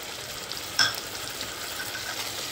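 A constant hiss of tomato-ginger paste sizzling in hot oil with fried onions, with one brief sharper crackle near the start; close by, no talking.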